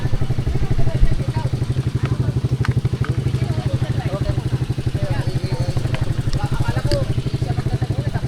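A motorcycle engine runs close by in a steady, rapid chugging idle with an even pulsing rhythm throughout, loud and continuous, with a brief bump of clatter near the start.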